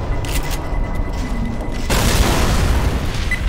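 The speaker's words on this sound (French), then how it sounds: "Une bombe. Non. Grenade." A grenade goes off in Left 4 Dead 2 with a loud, broad boom that jumps in partway through and holds as a dense roar to the end, over a steady rumble of game noise.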